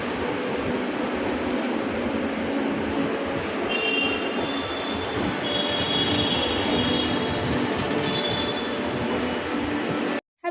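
Steady, loud rumble of a metro train riding along the line, with bands of wheel squeal rising and fading over the roar; no talking, cut off abruptly at the end.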